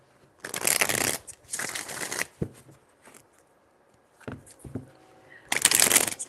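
Playing cards are riffle-shuffled in three loud, bursty runs separated by quieter handling and brief taps, recorded close-up during a tarot-style card reading.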